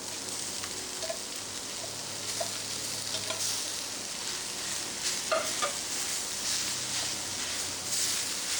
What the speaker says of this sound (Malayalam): നന്നായി ഇതിലിട്ട് ഇളക്കി ഫ്രൈ ചെയ്യാം.